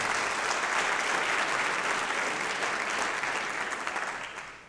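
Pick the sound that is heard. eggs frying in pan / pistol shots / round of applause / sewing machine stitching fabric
round of applause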